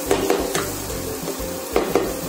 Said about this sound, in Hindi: ये देखिए हमारा मसाला अच्छी तरीके से भून चुका है।